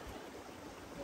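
River rapids on a rafting trip near Putao in Kachin State, Myanmar, give a brief, steady rush of churning water, faint and close, with no voices.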